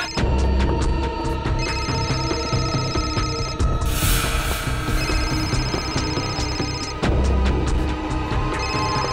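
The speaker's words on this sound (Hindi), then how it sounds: "फोन तो यहीं पे बज रहा था ना?" A mobile phone ringtone plays loudly and repeatedly over a dense, busy backdrop of music and clattering sounds in a TV crime drama scene.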